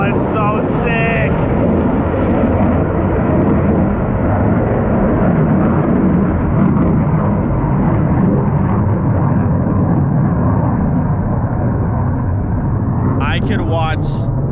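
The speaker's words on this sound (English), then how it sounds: "I could watch jets literally all day long. That sound is just incredible." A jet aircraft roars past overhead with a loud, sustained, broadband rumble that holds steady throughout, while brief voices break in at the start and near the end.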